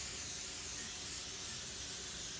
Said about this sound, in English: So I got cooking spray to put over it because you don't want your pancakes to stick to the griddle.